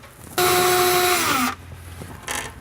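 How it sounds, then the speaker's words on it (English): A power drill whirs loudly for about a second, winding down as it bites into a cabinet, followed by a brief second burst. "from here you can drill in place."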